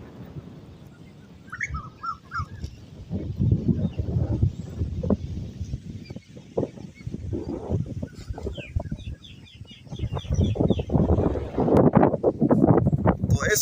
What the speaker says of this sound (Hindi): बहुत ही जो है तेज़ हवा चल रही है, बहुत तेज़ हवा चल रही है